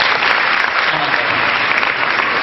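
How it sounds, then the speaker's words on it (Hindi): A crowd in an audience claps loudly and continuously, a dense, even wash of applause close by with no pause. "इसके लिए तालियां होनी चाहिए।"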